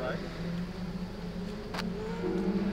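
Race cars roaring off the grid at the start of a Christmas Trophy Challenge race, a continuous loud engine drone with rising revs under steady commentary.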